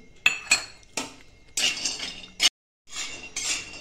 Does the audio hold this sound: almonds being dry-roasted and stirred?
yes